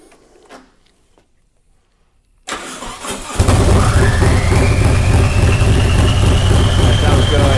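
A Harley-Davidson motorcycle engine with boost and a faulty MAP sensor cranks and fires after a quiet stretch, then settles into a loud, steady, deep running rumble close by, with faint talk at the start.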